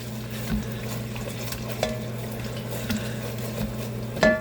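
Sugar sizzling in a pan at the start of a pork stir fry, a steady low frying hiss running continuously with small pops and a brief clink near the end, with no voices.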